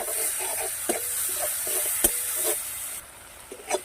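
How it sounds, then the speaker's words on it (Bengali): Chopped tomato, green chilli, salt and spices sautéing in a pan for pabda fish tel jhal, a soft continuous sizzle broken by several sharp scrapes of a spatula stirring the mixture. "এবার দিয়ে দিচ্ছি কেটে রাখা কাঁচা লঙ্কার কুচি টমেটো কুচি হাফ চামচ নুন এবং টমেটোটা মশলার সাথে ভালোভাবে কষিয়ে নিচ্ছি"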